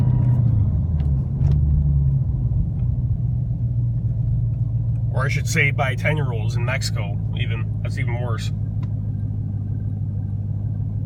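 A Dodge Hellcat sits idling with a steady, deep mechanical rumble and drone from its transmission, running throughout while someone talks partway through.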